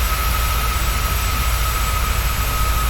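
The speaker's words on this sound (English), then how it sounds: "We'll go on the outside to hear the engines ramp up" Simulated PMDG Boeing 737 jet engines in Microsoft Flight Simulator heard from outside the aircraft, a steady low engine roar with a thin high whine running unchanged throughout.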